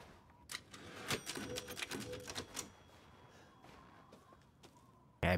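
A typewriter in the video game Resident Evil Village clacks out a quick burst of keystrokes that slows into a few scattered taps, ending with a louder thud.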